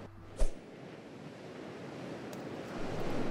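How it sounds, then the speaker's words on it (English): Ocean waves roll and wash steadily in the sailing video game Salt, a broad continuous surf roar with wind that swells louder toward the end, after one brief thump at the start. "These waves are actually really big. Oh yeah, these waves are really big."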